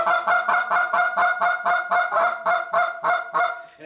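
A goose call is blown in a fast, steady cadence of loud, close honking clucks, about a dozen evenly spaced notes with no talking.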